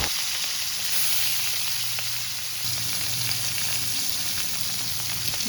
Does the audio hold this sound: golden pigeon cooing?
no